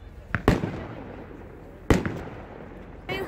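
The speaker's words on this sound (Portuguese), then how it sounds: "Queima de fogos aqui no Canadá é assim, é 20 minutos de queima de fogos" Fireworks in winter in Muskoka, Ontario, Canada: a few sharp separate bangs spaced over a couple of seconds, fairly close and loud, with crackling tails between them and no talking.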